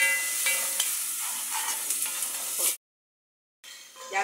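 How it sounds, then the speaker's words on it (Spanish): Vegetables are stirred in a pan with seasoning broth, giving a soft continuous sizzle with light scraping strokes close by, cut off by a brief gap of silence before resuming. "Revolvemos."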